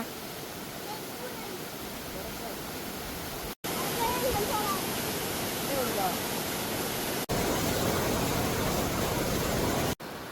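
Vattappara waterfall in a forested hillside area pours with a steady, loud broadband rush, close and continuous, broken by two brief cuts.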